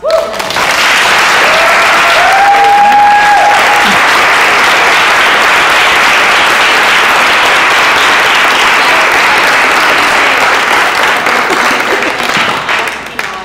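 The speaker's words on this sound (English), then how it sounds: "So we can give a well round of applause." Sustained audience applause fills the room at the close of a touring show, a dense steady wash of many hands clapping, loud and continuous throughout with a few whoops and faint voices rising briefly near the start.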